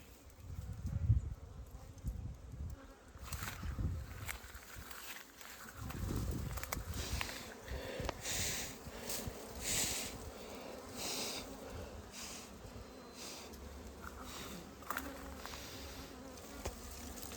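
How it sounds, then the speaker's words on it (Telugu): Honey bees swarm around a village hive during a honey harvest with smoke, a dense buzzing that swells and fades as insects pass near, with rustling and footsteps in the background. "సో మనల్ని దాకా కొరికేకి వచ్చినాయి ఈగలు"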